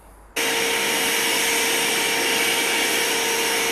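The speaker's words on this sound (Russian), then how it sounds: "Пропылесосим слегка, чтобы лишняя пыль ушла." Vacuum cleaner switching on abruptly and running loud and steady while sucking up dust from a window opening during a PVC window installation in a flat under renovation, a constant high whine with a broad rushing roar, no talk.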